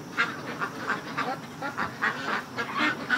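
Ducks shut in their pen for the night quack in a steady run of repeated calls, fairly close and moderately loud, with no talk over them.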